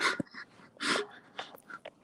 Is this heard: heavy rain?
no